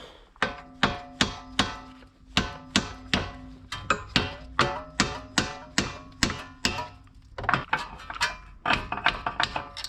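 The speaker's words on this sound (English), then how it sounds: "Now we do some tapping." Repeated metallic tapping on brake parts during a VR6 wagon brake upgrade, about two firm strikes per second in a steady run with no talk, ending in a quicker cluster of lighter taps.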